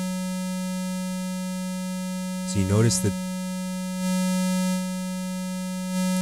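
A Korg Electribe 2 synth holds a steady, buzzy, bright tone with its filter resonance turned up high. It sounds continuously, with a brief stretch of talking over it midway and a slight swell in level near the end.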